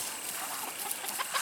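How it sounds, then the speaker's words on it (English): Chickens cluck in short scattered bursts over a thin, hissy outdoor background, a few soft calls near the end, with no voices. "Stop chasing the chicken."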